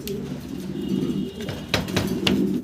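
A Kashmiri racer pigeon sitting on eggs coos in low, throaty repeated phrases, close and clear, with a few sharp rustles and taps between calls.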